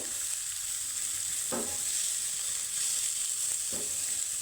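Shredded cabbage and potato frying in a pan give off a steady bright sizzle, with a couple of brief stirring scrapes breaking through. The sound is close and continuous, and no one speaks.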